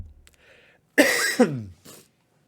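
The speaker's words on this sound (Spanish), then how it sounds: "me está viniendo la tos ahora de una forma" A single loud, rough cough bursts out after a brief faint voice, followed by a short softer cough or throat sound, then quiet.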